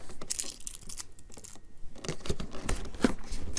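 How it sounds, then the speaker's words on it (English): Tape being peeled off the sealed cardboard package of an Impressions Vanity makeup mirror, close crinkling and ripping textures in several quick bursts, with no speech. "So we can take off this piece of tape."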